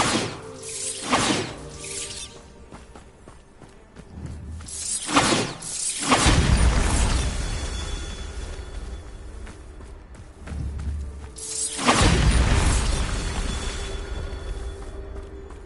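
Bombarda spell explosions in the video game Hogwarts Legacy: two sharp blasts, each followed by a crashing burst and a long rumbling decay, with no talking.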